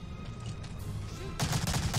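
An MP40 submachine gun fires in the video game Medal of Honor: Allied Assault, a short burst of rapid automatic shots that starts partway through and stays fairly close and loud over low background game noise.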